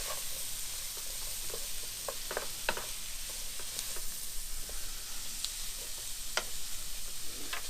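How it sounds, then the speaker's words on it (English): Onions sizzle and fry in a pan while they soften, a steady bright hiss with scattered small pops and crackles, close and continuous with no talking. "I'll just cook these onions down for a few minutes"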